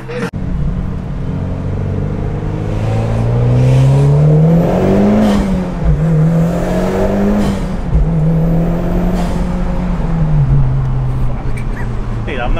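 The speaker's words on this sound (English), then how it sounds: "Like revving it out." A Subaru car at a Subaru enthusiast meet revs its engine, the pitch sweeping up, holding and easing back down in long waves. The loud, close engine drone continues throughout the clip.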